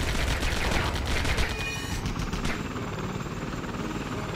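Joker's helicopter in the Lego Batman video game drops bombs, a dense rattling barrage of explosions and rotor whir that stays loud and continuous before thinning slightly toward the end.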